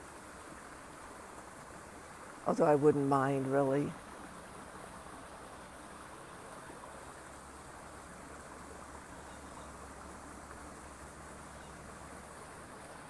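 Steady stream water flows quietly and continuously in the background outdoors, with a brief spoken phrase near the start rising above it.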